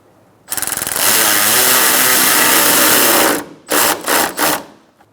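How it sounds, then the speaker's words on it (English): A power tool drives a bolt into a 2012-2018 Ford Focus front bumper cover, one long loud whirring run followed by three short bursts, close and alone. "We're going to start our silver bolt here."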